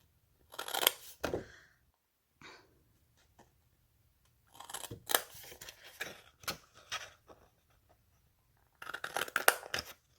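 Paper being snipped with scissors while making a gift box: close, crisp cutting strokes in several short bursts separated by quiet pauses.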